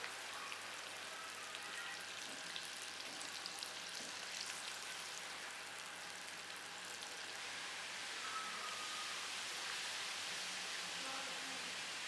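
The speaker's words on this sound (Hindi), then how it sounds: "लहसुन को हल्का सा फ्राई करेंगे" Crushed garlic lightly frying in half a cup of oil in a karahi, making a faint, continuous hiss like light rain that holds steady from start to end.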